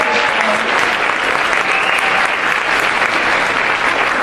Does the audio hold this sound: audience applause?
yes